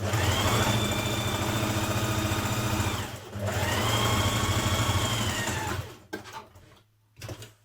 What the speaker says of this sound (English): I'm going to stitch my seam all the way to the bottom so that it's closed at the sides